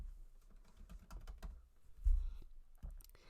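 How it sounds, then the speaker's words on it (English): Typing on a computer keyboard at a desk, a quick run of light clicking keystrokes, close and fairly quiet, with no speech. "Now I'll start typing in my words."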